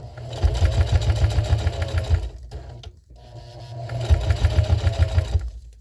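A sewing machine stitches a fabric jar gripper with tape in two fast, continuous runs, broken by a brief pause near the middle, close up.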